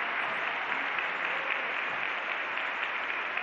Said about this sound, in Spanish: La bienvenida oficial y el aplauso de nuestro público para Aquiles Montalve y Gastón Binú.